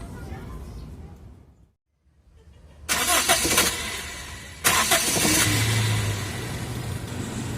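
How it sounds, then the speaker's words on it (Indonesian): A Toyota Kijang Kapsul engine with a newly fitted fan belt rumbles, dips nearly silent, then roars back in two loud bursts and settles into a steady running hum. "Oke, mobil sudah saya nyalain dan ternyata fan beltnya bagus kedengarannya kawan ya"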